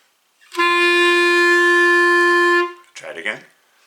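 A single clarinet G held steadily for about two seconds, clear and close, followed by a brief burst of muffled voice.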